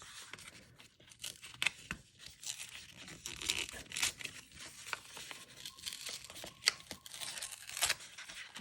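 A used paper card is pulled and torn apart by hand, with irregular crinkling, tearing and crackling bursts continuing for several seconds close up, with no talking.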